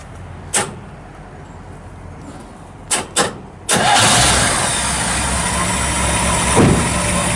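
A 1955 Chevrolet Bel Air two-door hardtop with dual exhaust cranks over after a few sharp clicks, catches, and settles into a quiet, smooth idle.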